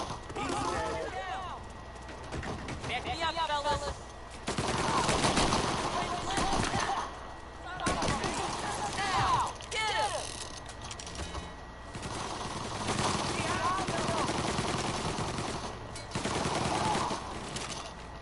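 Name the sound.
gunfire in the video game Mafia: Definitive Edition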